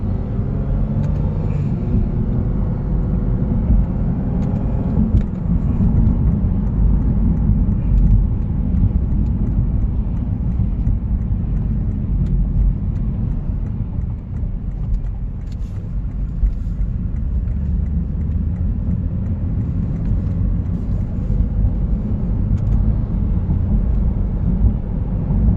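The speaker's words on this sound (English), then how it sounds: "Just a tad small difference in engine noise." Engine of a 2015 Lexus RC 350 F Sport fitted with a K&N high-flow air filter, a steady low rumble and road drone heard from inside the cabin while driving, continuous and fairly loud with no talk.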